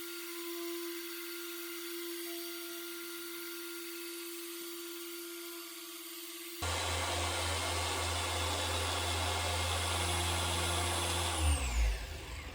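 A G8 machine polisher works compound into a clear coat scratch on a black Subaru STi. After a quiet stretch with a faint steady tone, the polisher starts abruptly and whirs steadily for about five seconds, then winds down.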